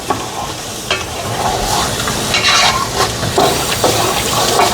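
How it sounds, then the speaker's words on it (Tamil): Masala for shrimp biryani sautéing loudly in a pan, a dense continuous sizzle with repeated stirring scrapes rising and falling throughout. "நல்லா வதங்கட்டும். சூப்பராக வதங்கி வருகுது."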